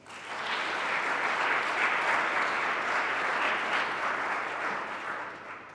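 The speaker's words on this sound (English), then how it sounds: "Please give them a round of applause." Steady, full applause from an audience at a book launch swells in, holds dense and even for several seconds, then tapers slightly, with no talking over it.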